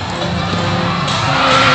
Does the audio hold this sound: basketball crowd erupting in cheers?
yes